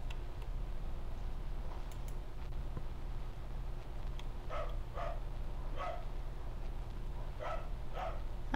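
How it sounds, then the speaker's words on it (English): A dog barks in Minecraft, pairs of quick yips repeating at a middle distance over a constant low hum and faint ticking. No one speaks. "Oh no, he's barking again."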